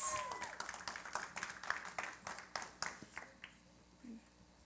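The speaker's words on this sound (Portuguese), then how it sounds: "Palmas!" Studio audience clapping to welcome a couple of guests onto a talk show set, a run of sharp claps close by that thins out and fades after about three seconds.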